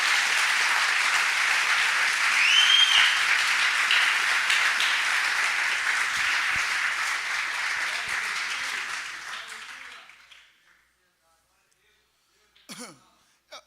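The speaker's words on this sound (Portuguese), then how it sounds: "Quem está comigo, aplauda Jesus da melhor maneira que você puder," A church congregation applauds during a sermon, with sustained, fairly loud clapping from many people that holds for several seconds and then fades out to silence around ten seconds, followed by a brief cough or throat clear.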